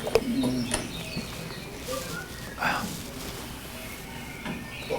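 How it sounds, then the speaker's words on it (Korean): Birds call outside an open window in the morning, including a cuckoo among soft cooing and chirps, fairly faint and distant with a low background hum while a person talks quietly. "뻐꾸기 소리도 들리고"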